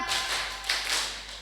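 Hands clapping in a counted pattern at a school student-organization training event, a quick run of sharp, bright claps in close succession, fairly loud and near, with no talk over them.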